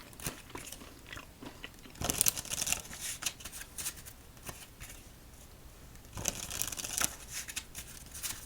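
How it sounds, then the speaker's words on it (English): Crisp riffling and snapping of playing cards being shuffled, in several bursts separated by quieter handling noises. "Let's give the deck 5 shuffles and begin."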